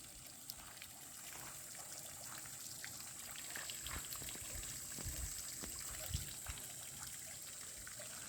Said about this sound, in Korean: 분수가 있어서 물소리가 나죠